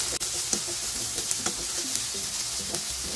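Shrimp sautéing in a pan for ginataang papaya with tinapa, a steady close sizzle with a few light clinks and stirring scrapes, no voices.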